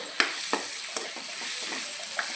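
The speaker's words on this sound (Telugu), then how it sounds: "ఉల్లిగడ్డలు అదే మగ్గుతున్నాయండి" Onions slowly frying in a pan for an egg tomato curry, giving a steady soft sizzle with a few faint scraping stirs, heard close and alone.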